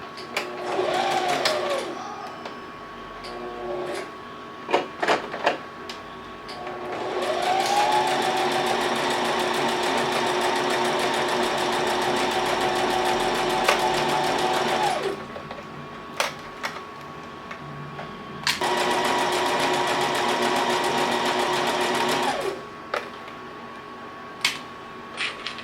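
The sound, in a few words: sewing machine stitching a rib knit top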